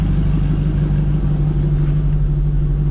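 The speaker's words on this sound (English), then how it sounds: "we're going to give you the full sound of the exhaust" A 1953 Buick engine idles through its exhaust, a steady, loud low rumble with a deep, even drone that holds unchanged from start to finish, close by and alone.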